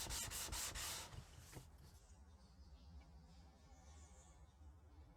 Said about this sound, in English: I continue working my way up the grits until the sole is flat and shiny.